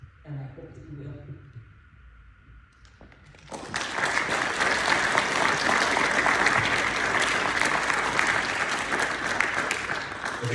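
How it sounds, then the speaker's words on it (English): After a brief stretch of quieter sound with a speaking voice, an audience at a leadership summit honoring Dr. Poole, a BYU-Idaho professor, erupts into sustained, loud applause that fills the room and continues to the end. "another round of applause for Dr. Poole"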